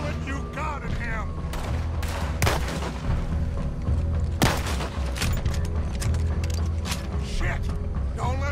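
Gunfire in the Western video game Red Dead Redemption 2: a few sharp shots over a steady clattering, mechanical din, loud and close, with voices faintly mixed in.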